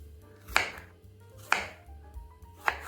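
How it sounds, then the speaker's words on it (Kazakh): Three evenly spaced knife chops about a second apart cut tomatoes into cubes on a cutting board for a green and brown tomato salad. Each stroke is a close, crisp thud-knock with no talking. "Енді помидорымызды турап бастаймыз."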